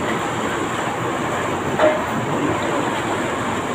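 Water gushes with a steady, loud broadband rush from a water pipe broken by a backhoe during roadwork, continuous with no pauses.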